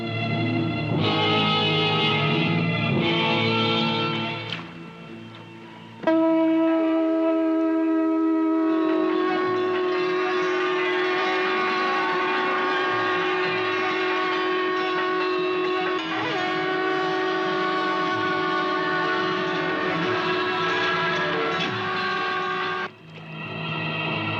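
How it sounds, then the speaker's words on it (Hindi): A conch shell blown in long, steady, resonant blasts, loud and sustained, with a brief pause before a second extended call and a short tail at the end. "दाऊ भैया, ये शंख कितना सुंदर है।"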